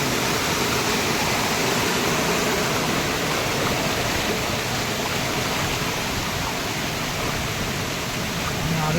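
Steady, loud broadband roar of floodwater rushing through a collapsed embankment pours on without pause, dense and close, with no other sounds breaking through.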